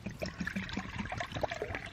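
Water trickling and splashing as it's poured into a frying pan at an outdoor woodland cookout, a light irregular dribble with small splashes, close by and fairly quiet with no talking.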